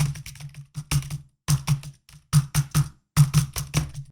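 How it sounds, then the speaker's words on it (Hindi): Computer keyboard typing captured through a Blue Yeti Nano USB microphone, with bursts of sharp, close key clicks in quick rhythmic clusters separated by short silent pauses. "अभी कीबोर्ड साउंड आप सुन लो स्ट्रीमिंग के टाइम पे कैसा आता है।"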